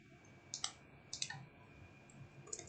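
Light clicking keystrokes on a computer keyboard, a few short quick bursts of taps with pauses between, close and quiet against a faint background hum.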